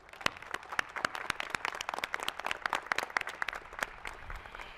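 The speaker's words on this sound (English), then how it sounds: "Let's give them a round of applause." An audience at a nursing recognition ceremony claps steadily, many hands producing a dense, even patter of claps that holds for several seconds at moderate distance.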